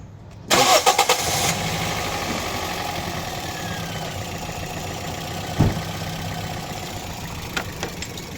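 Toyota Vios car engine with a suspected misfire cranking and catching, then settling into a steady, slightly uneven idle, with a few knocks and clicks later on.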